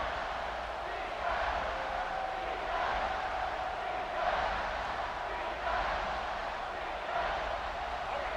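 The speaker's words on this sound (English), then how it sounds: "No fall off from the noise or intensity from this crowd as we start the fourth quarter." Stadium crowd in the college football game EA Sports College Football 26, a dense, continuous roar of cheering fans in the fourth quarter, sustained and fairly even in loudness with gentle swells.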